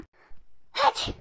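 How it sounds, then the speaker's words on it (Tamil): A girl who got soaked in the rain sneezes once, a sharp close burst after a faint breathy intake, with no talking. "இவளுக்கு ஏன் தும்மிட்டு இருக்கா?"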